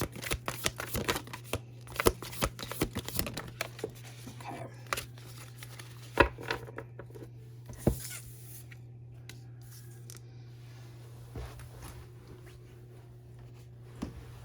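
Tarot cards being shuffled and drawn for a reading, a run of quick, soft papery riffles and flicks, busiest at the start and thinning to occasional light snaps, over a low steady hum.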